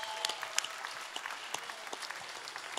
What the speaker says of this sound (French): Merci, on les applaudit, s'il vous plaît.